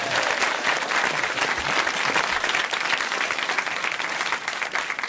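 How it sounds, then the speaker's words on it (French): A studio audience at a broadcast from Alpe d'Huez claps and cheers, dense sustained applause that is loud and close throughout, with no clear talk over it. "mesdames et messieurs, je vous demande d'applaudir, Pierre Bénichou"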